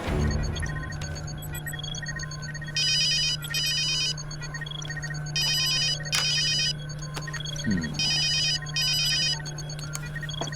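Telephone ringtone on a call being placed, repeated electronic ringing bursts in a steady pattern over a low hum, fairly faint, no voices.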